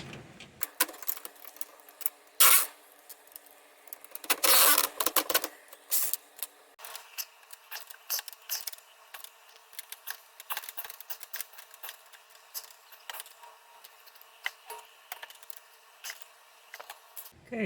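Socket wrench with a wobble extension running down bolts on a Jeep Cherokee XJ, giving close, rapid, irregular ratchet clicking with a few louder clattering bursts early on.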